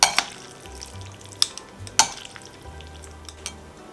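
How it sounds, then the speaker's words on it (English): Spaghetti tossed with Neapolitan tomato sauce in a pan: soft stirring and scraping with a few sharp utensil clinks against the pan, close and moderately quiet, with no talking. "And now I stir this all together. I'm just going to toss it now."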